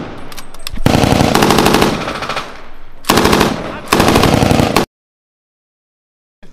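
Sustained machine gun suppressing fire during military urban combat training rattles out in loud, close bursts, with a short pause between them, then cuts off into silence.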